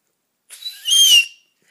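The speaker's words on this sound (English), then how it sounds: "I have a weird whistle" A short, warbling human whistle with a few wavering high notes, loud and close, rising into a sustained trilling tone before stopping abruptly.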